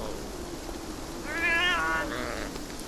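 A cat meows in the video game Beyond Eyes, one drawn-out, wavering call rising clearly over a low steady ambient hum and then fading out.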